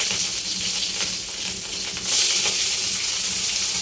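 Capsicum frying in oil in a wok gives a steady hissing sizzle that rises a little louder partway through, with no speech.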